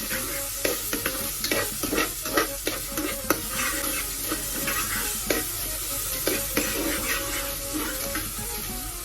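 Chopped tomatoes go into browned onions frying in a pan for dal khichdi, a continuous loud sizzle broken by repeated scraping stirs and clacks of a spoon against the pot.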